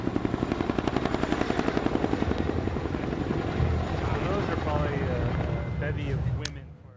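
A US Army helicopter at a 2005 E3 demonstration thunders close and loud, its rotor chopping in a rapid, even beat before the sound swells into a broad roar and then cuts off near the end.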